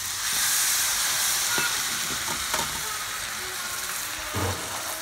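Steady loud sizzling hiss of water steaming in a hot frying pan with goat cheese stuffed chicken, with a few soft clinks and bumps underneath.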